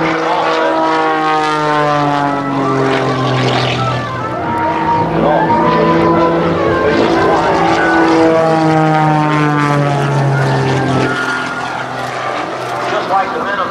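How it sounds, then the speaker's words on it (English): A fabric-covered Pitts S2C biplane performs at the 2008 Rhode Island airshow, its propeller engine droning loudly and sweeping up and down in pitch as it passes overhead, while an announcer talks over a public address. "Ed Hamill flies his fabric-covered biplane, representing the Air Force Reserve"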